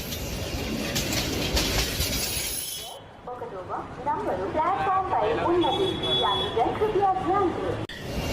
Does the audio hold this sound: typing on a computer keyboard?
no